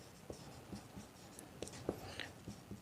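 Pen or pencil writing an answer by hand during a Class 9 maths lesson: soft, scratchy strokes in short irregular bursts, quiet and close, with no talk.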